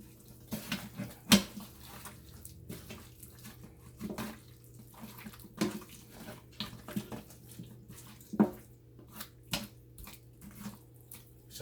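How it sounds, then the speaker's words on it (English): Running tap water while hands are washed during turkey wing preparation, a steady low rush with scattered splashes and clinks at a fairly close distance, no talking. "Wash our hands again."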